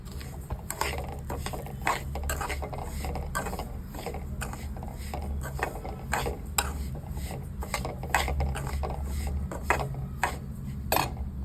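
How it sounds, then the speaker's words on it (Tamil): A spoon scrapes and stirs dry broken wheat rava as it roasts in a pan over a medium flame for godhumai ravai kichadi, giving a steady run of close, rhythmic scraping strokes with light metallic knocks and no talk. "இப்போ இதை நல்லா கிண்டி விடலாம்"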